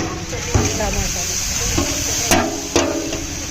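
Onions fry in oil for a vegetable biryani with a continuous sizzle and hiss. A few sharp scraping knocks from stirring cut through, and a voice talks over it.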